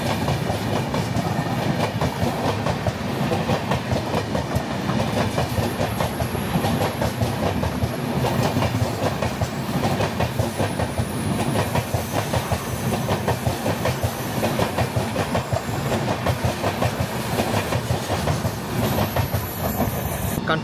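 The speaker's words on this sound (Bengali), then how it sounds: "এটা হচ্ছে বিহার সম্পর্ক্রান্তি এক্সপ্রেস, ডারভাঙ্গা থেকে নতুন দিল্লি" The Bihar Sampark Kranti Express from Darbhanga to New Delhi rolls past with a continuous rhythmic clickety-clack of wheels on rail joints, steady and fairly close, without any talking.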